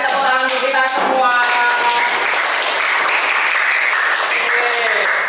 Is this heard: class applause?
yes